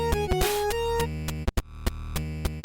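Chiptune 8-bit cover of a hip-hop song, square-wave beeps and blips over a thumping bass line, steady electronic pulses at moderate volume, no talking.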